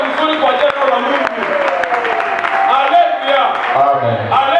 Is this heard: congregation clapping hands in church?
yes